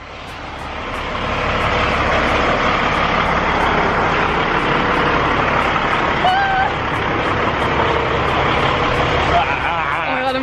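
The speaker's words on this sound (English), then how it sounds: "we noticed there's a lot of traffic. It's probably very loud right now" A truck rumbles past through loud, dense street traffic, a broad steady roar that swells within the first two seconds and holds near and heavy, with brief tonal squeals midway.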